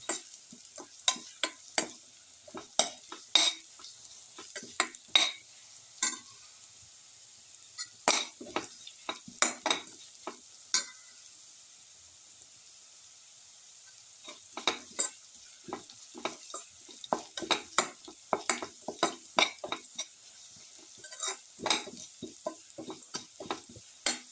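Cumin seeds fry in a pan with a faint, steady sizzle as a spoon stirs them in bursts of clicking, scraping strokes, close up, with a quiet pause midway and no voices.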